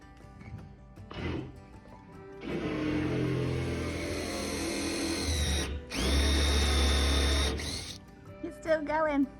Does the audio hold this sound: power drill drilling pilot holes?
yes